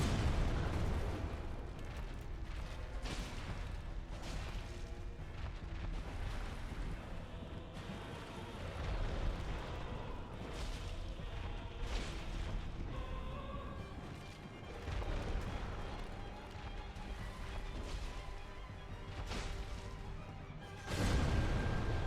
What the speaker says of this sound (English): I just gotta keep baiting out that explosion attack.